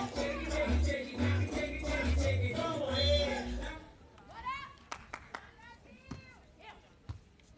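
Brazilian fans in the crowd at a women's beach volleyball semifinal in Espinho cheer and clap loudly for a few seconds, then fade into scattered claps, thuds and murmuring voices.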